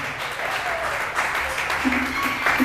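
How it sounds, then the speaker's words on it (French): Audience at a conference applauding, a steady wash of many hands clapping at a moderate distance, with a voice faintly present underneath. "On acclame pour le Seigneur."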